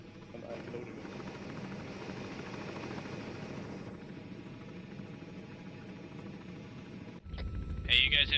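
Helicopter engine and rotor drone in the ARMA 3 video game, a steady loud hum running throughout, with a louder burst of noise and clatter near the end.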